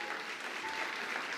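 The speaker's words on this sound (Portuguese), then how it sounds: "Você pode dar um aplauso ao Senhor" A church congregation at a Sunday service applauds in a short, even wash of many hands clapping together, steady and moderately loud throughout.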